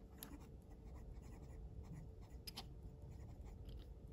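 A Gravitas Pens Sentry stainless steel fountain pen writing on paper gives a faint, continuous scratchy scribble with a few sharper strokes, quiet and alone.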